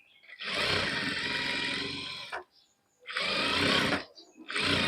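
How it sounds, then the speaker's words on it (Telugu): A sewing machine stitching a straight line on fabric, running in three loud, steady bursts with short pauses between them. "మీరు ఒకసారి స్ట్రైట్ లైన్ ఒక స్టిచ్ చేసుకోండి"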